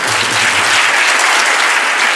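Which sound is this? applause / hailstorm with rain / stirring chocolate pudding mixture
applause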